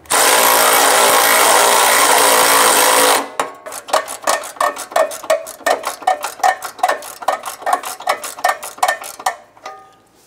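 A power tool runs loud and continuous for about three seconds, then hammers out a fast series of rhythmic bursts while tightening bolts on the exhaust flanges of a 2011-2021 Jeep Grand Cherokee 3.6L V6. It is close and alone.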